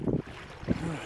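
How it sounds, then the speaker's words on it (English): Cold wind gusting down a river at a trout fishing spot, two loud buffeting bursts of microphone wind noise close by, with no talk. "The wind's coming straight down this river."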